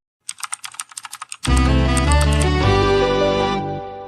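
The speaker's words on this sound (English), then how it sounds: "let me see who's down here typing in the comments" A computer keyboard clatters with a quick run of close, crisp keystrokes for about a second, then stops as loud music with sustained tones takes over for the rest of the clip.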